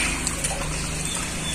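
Liquid is sprinkled over a solid organic fertilizer mix, giving a soft, continuous hiss and trickle at moderate distance with no talk.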